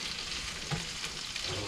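Pork sizzles in a hot pan for fried rice, a soft, steady crackling hiss with a faint clink partway through, heard alone.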